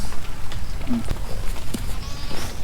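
Goats at a farm pasture bleat in short cries at mid distance over steady outdoor background noise, with light speech-like sounds mixed in.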